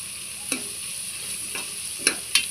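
Crushed ginger and garlic fry in a pan for prawn biryani, giving a steady, gentle sizzle with four brief spoon scrapes spaced unevenly and no voices.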